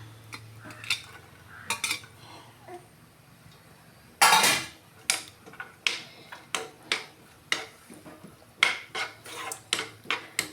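Chopped onion stirred in hot oil in a pan, with a loud scraping burst then steady rhythmic spatula knocks and scrapes against the metal, close up and without talk.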